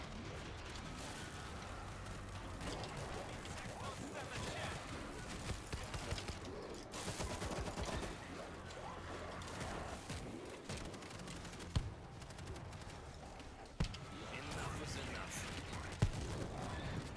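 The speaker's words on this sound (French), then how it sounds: "J'avoue que je tire pas non plus super précisément" Dense, continuous gunfire from shooting at zombies in the video game World War Z, rapid bursts and scattered sharper shots layered over each other, steady and busy, with someone talking over the action.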